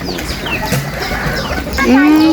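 Black chickens clucking close by at a family temple visit, a few short fowl calls over a busy outdoor background, ending with a louder, drawn-out call.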